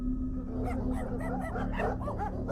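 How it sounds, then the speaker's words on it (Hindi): Several dogs bark and yip in quick, uneven bursts close by, over a low steady hum. "कुछ कुत्ते उसे देखकर भौंकना शुरू कर देते हैं"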